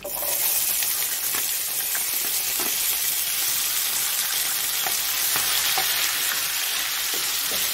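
Capsicum sizzles in a hot pan with bay leaf, a loud continuous frying hiss with faint stirring scrapes, close up and without speech.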